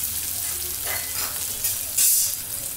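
Capsicum and onion frying in a pan, a loud close hiss of sizzling oil with a few stirring swells and a brief burst of stronger spitting near the end.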